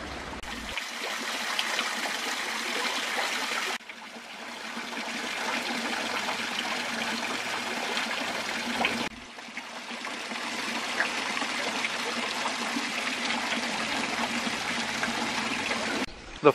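Spring water from a sacred well in Silverdale running over rocks in a forest, a steady close rushing and trickling that fills the whole stretch, with two abrupt cuts where the flow sound briefly shifts.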